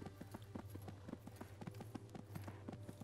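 Steady, regular hoofbeats of a horse being ridden in the fantasy video game Disciples Liberation, an even clip-clop rhythm heard alone over a low ambient hum.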